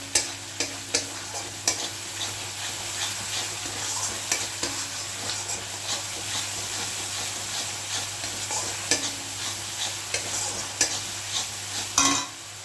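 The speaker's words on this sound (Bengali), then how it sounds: "মশলা কষানো প্রায় হয়ে এসছে, দেখো তেল ছেড়ে দিয়েছে। আর এর মধ্যে দেব, সবটা দেবো না, কাঁচা লঙ্কা কুচনো" Spice masala frying in oil for a Bengali eggplant kofta curry sizzles continuously while a utensil scrapes and stirs the pan, with occasional louder knocks as chopped green chilli goes in.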